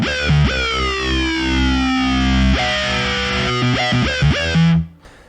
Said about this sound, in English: Some are based on like distortion pedals.